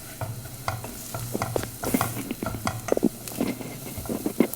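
Masala being stirred and fried in a pan for Kerala-style liver fry, with steady sizzling and scraping stir strokes close up, no talking.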